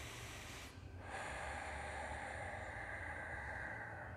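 Heavy breathing and a sharp snort-like exhale from someone holding their legs up during a flexibility exercise, close and loud, with a brief pause before steady hissing breath continues alone.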